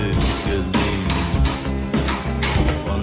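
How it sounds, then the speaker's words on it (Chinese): Metallic clanks and taps ring out as rear axle shock absorbers are removed from the chassis of a 1946 antique car under restoration, several irregular close strikes over a steady workshop background. "把後橋減震全部拆掉"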